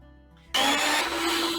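An electric mixer starts up in a bowl of milk and bun dough for chocolate buns. It kicks in suddenly and keeps up a steady, loud whirring drone after a quiet moment.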